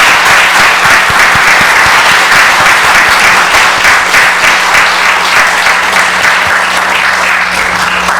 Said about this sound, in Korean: 함께 여러분 감사함으로 박수 해주시기 바랍니다.